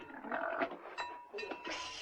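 Sheep from a Navajo herd bleat in several wavering calls, one after another and fairly close, with a faint bell and a quiet background between them.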